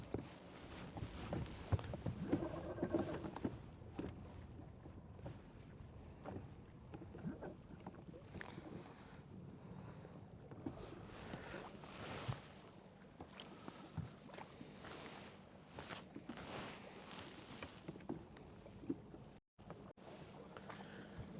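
Brisk wind buffets the microphone on open water at Wister Lake during a boat fishing tournament, a steady rough rumble with gusty swells and faint boat noise, no clear speech.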